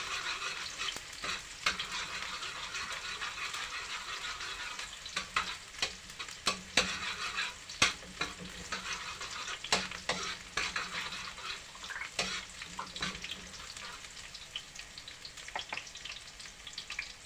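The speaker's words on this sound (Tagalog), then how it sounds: "unahin na natin tong bawang. Brownin lang natin to guys para mas mabango, mas malasa siya." Garlic browning in hot oil in a pan, a continuous close sizzle broken by frequent scraping clicks as it is stirred, with no voices.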